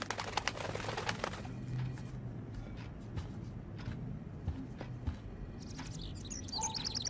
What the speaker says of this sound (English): look at the poor bird